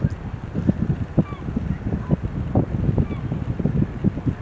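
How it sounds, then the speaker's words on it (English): Herring gulls and ring-billed gulls call at the mouth of Northeast Creek as the tide comes in, giving scattered honking cries over rough wind buffeting the microphone. "These are all herring gulls and ring-billed gulls."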